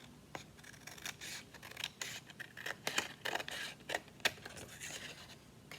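Scissors cut through paper for a jumbo paper clip craft, a close run of quick crisp snips and rustling scrapes, fairly quiet with no talking.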